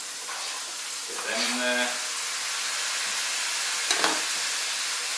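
Green beans and diced tomatoes sizzle in a frying pan with a steady, close hiss, briefly under a spoken voice, with a slight surge as the tomatoes go in.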